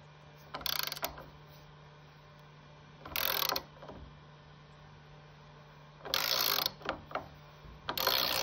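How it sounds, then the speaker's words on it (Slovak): A ratchet wrench tightens metric bolts, including a strength-class 5.8 bolt, threaded into wood, in four short bursts of rapid clicking separated by quiet pauses, with a faint steady hum underneath. "Skrutky zaskrutkujem a ide sa priťahovať."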